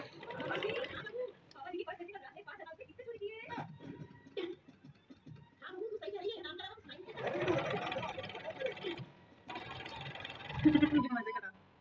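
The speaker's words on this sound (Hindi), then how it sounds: "अपने कपड़े को बराबर करते हुए सिलाई लगाना शुरू करना है" A sewing machine stitches a straight Pakistani salwar, running in steady bursts of a few seconds at close range, with someone speaking over and between the runs.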